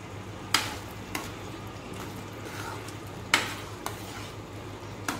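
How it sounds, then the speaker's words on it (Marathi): Quiet scraping and clinking of a spoon stirring thick cashew and yogurt paste into curry in a pan, a handful of sharp knocks spaced irregularly over a low simmering hiss. "आता ह्याच्या आत आपण पेस्ट वाटली आहे ती टाकूया, काजूची आणि दह्याची"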